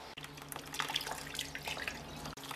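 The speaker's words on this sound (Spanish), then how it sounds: "vamos a dejar que salga el agua despacito, despacito para que se vaya limpiando" Dirty water running slowly out of a car's heater core as it is flushed clean, a steady close trickle and splash with small drips, no voices.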